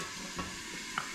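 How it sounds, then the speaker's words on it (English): Pumpkin sizzles in a pan as a faint steady hiss, marked by a couple of brief stirring knocks in a very short moment. "I can hear it sizzling."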